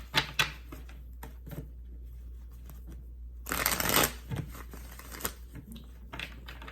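A deck of tarot cards shuffled by hand, close rapid riffling clicks and flutters with a dense burst midway over a low steady hum, no talk.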